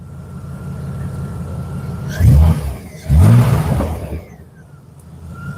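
A truck engine revs twice in short loud bursts with crackling exhaust, idling in between, while faint background talk is heard.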